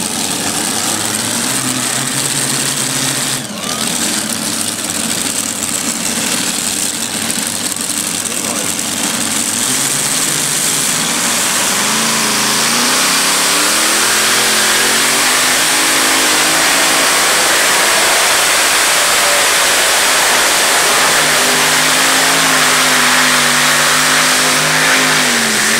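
A 7500 lb class pulling tractor roars through a competition pull, its engine revving loud and steady for the whole run with pitch climbing and dipping as it strains down the track, while an announcer talks over it.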